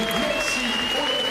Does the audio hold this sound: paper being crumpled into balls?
no